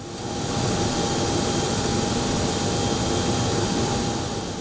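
A new Airbus A220 passenger jet gives off a steady, unbroken engine roar at moderate loudness, holding even throughout with a faint high whine on top and no voices.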